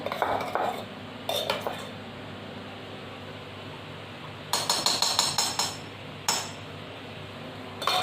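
A kadai is set down on a gas stove and ghee is spooned in for kheer: several sharp metallic clanks and repeated spoon taps against the pan, close, over a low steady background hum.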